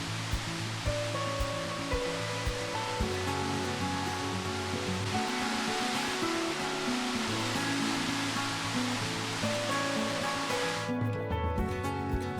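Water gushing down a waterfall on a hike in the Albanian Alps makes a loud, steady broadband roar that fills the scene throughout and drops slightly near the end.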